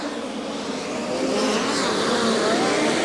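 USAC National Midget race cars roar together at the green flag at Angell Park Speedway, a loud, steady wall of engine noise that swells as the pack accelerates, with faint tire squeal and crowd noise beneath.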